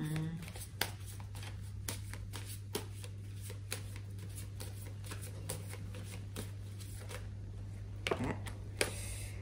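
Tarot cards shuffled and drawn, a run of quick crisp riffles and soft snaps close by over a steady low hum, with a voice talking over parts of it.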